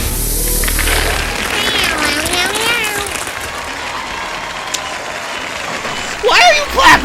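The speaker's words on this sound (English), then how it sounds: "Why are you clapping?" Clapping rises over a hiss-laden background, with talk and vocal sounds running alongside it and a louder burst of voice near the end.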